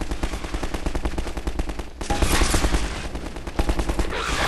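Rapid automatic gunfire crackles from a weapon in Half-Life 2, a steady stream of close shots that breaks off briefly before more heavy bursts resume, with no speech heard.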